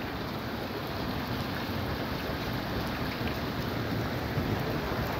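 Steady rain falls outside, a dense, even hiss of drops pattering on surfaces with a soft windy rumble underneath, constant and moderately loud with no breaks and no voices.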